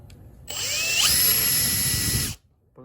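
Power drill spinning a bit inside the oil pump hole of a K24 engine, a steady whining buzz lasting about two seconds, close and loud, with a rising pitch sweep as it spins up.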